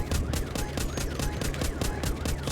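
Rapid, continuous gunfire in a zombie survival shooter, the bursts repeating at a steady rhythm, loud and dense over a rumbling game soundtrack, with no talk.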